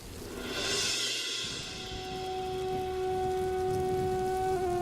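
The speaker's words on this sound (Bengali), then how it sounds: "গোপাল, তোরা এত রাতে এই কড়া তুফান আর মুষলধারে বৃষ্টির মধ্যে একেবারে পুরো ভিজে এসেছিস" Steady downpour hisses over a low rumble of a strong storm, with a sustained tone running through it.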